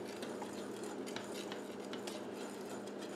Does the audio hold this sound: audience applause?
no